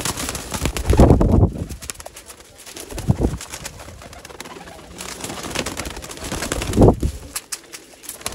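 Teddy Golden Kamagar pigeons give deep, rolling coos in several swelling bursts, close by, with wing flutters and shuffling in between.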